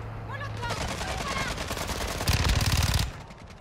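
Video game gunfire rattles in rapid automatic bursts, rising to a dense, louder volley near the end, with background game ambience throughout.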